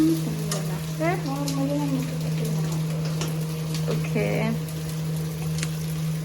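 Chicken frying in a pan on a home kitchen stove, a steady sizzle with a constant low hum beneath, while voices talk over it in the foreground.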